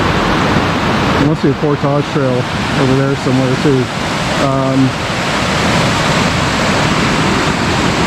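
Steady broadband rush of a waterfall below a bridge on the La Cloche Silhouette trail in Killarney Provincial Park on a rainy day, constant throughout as someone talks over it.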